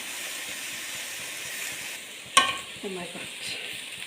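Onion, curry leaves and green chilli sautéing in a pan give a steady close hiss, broken by a sharp clatter and a brief rattle near the end.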